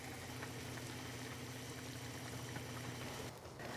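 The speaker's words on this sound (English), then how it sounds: "So we're bringing this up to a simmer." A pot of lamb tagine with preserved lemons coming up to a simmer, a dense continuous bubbling hiss, close and steady, fading slightly near the end.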